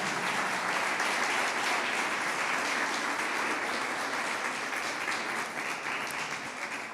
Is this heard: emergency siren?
no